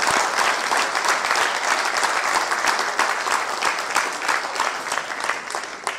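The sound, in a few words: audience applause for family members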